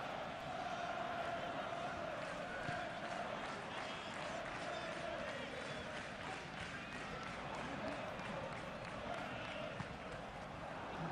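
A football crowd roars steadily through a Premier League match between Brighton and Tottenham, a broad, continuous stadium din of cheering and clapping that stays loud and even for the whole stretch.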